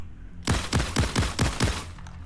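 Six rapid, evenly spaced blasts from a shotgun in the Payday 2 heist game, each a loud, sharp boom with a short tail, fired alone in a quick burst with no talking.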